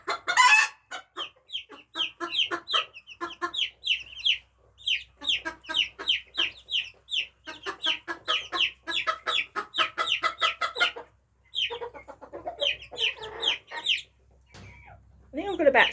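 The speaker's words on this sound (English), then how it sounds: "So in the morning, generally the crowing starts" Silkie and Japanese bantam chickens cluck in a rapid, busy chorus with roosters crowing among them, a dense stream of close, overlapping calls that runs nearly throughout, with a brief lull and a loud crow near the end.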